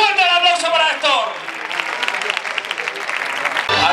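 At a village bull-leaping contest, a loud announcer's voice gives way to a crowd breaking into brisk outdoor applause, steady clapping continuing under occasional calls before the voice returns.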